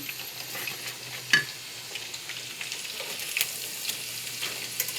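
Chicken à la king sauce thickening in a pan, a soft continuous sizzle with scattered spoon scrapes and one sharp clink near the start, close and without talk.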